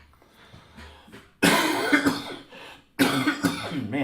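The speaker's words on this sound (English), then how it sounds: "this cough that just will not go away" A man with a lingering cough hacks in two harsh, loud bursts of several coughs each, close to the microphone with a quiet pause between.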